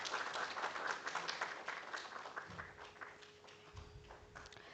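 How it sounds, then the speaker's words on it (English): An audience at a university academic ceremony gives a round of applause. Dense, steady clapping continues for several seconds and thins slightly toward the end, sounding somewhat distant and soft. "Everyone, please give a big round of applause."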